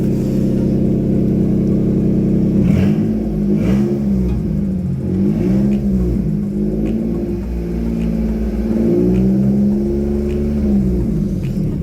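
A rebuilt Nissan Micra engine with 43,000 miles, running without coolant, idles loud and close with a steady low rumble, rising and falling in several small revs after the opening seconds.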